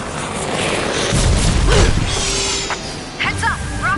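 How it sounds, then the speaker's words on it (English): Rocket blasts in a video game, a heavy booming impact swelling in the middle with rumbling debris and mechanical noise, followed by sharper electronic effects, while a voice talks over it. "Heads up! Rockets!"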